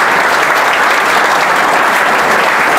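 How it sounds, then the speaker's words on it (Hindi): Loud, dense applause from a crowd at a prize distribution ceremony at a coaching institute, sustained clapping with no pause. "ताली कम नहीं होनी चाहिए भैया, जोरदार ताली बजनी चाहिए"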